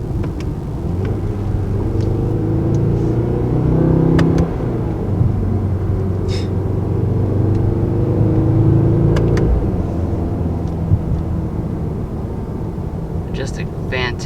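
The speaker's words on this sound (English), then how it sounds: "Just a fantastic sounding engine." 2019 Mercedes-AMG GT 4-Door engine in manual mode, a loud steady rumble from inside the cabin that climbs in pitch and drops back with each gear shift, with road noise and a voice talking over it.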